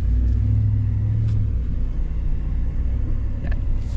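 A Ram TRX pickup truck rolls along and eases off the edge of the road, a deep, steady engine rumble heard from inside the cab with faint knocks from the tires.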